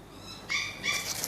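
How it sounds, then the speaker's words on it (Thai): A puppy lets out two short, high-pitched whines against a quiet background, faint but clear, the second just after the first. "ลูกหมา"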